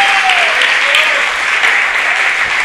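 A church congregation applauds loudly and steadily at an evangelistic service, with dense, sustained clapping throughout and a voice faintly audible beneath it.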